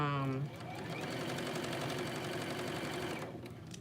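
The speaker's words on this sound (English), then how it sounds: "now we're going to go ahead and sew up these shoulder seams" A sewing machine stitches the shoulder seams of a top in a fast, steady mechanical whir that runs close and loud for several seconds, with a brief voice at the very start.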